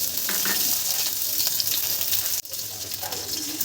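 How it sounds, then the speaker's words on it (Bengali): Whole cumin seeds and chillies hit hot mustard oil for a spicy okra and potato curry, producing a bright, continuous hissing sizzle with a brief dip midway, close and loud, with no talk. "তেলটা গরম হলে আমি এখানে গোটা জিরে ফোড়ন দিলাম, সাথে লঙ্কাটাও দিয়ে দিলাম।"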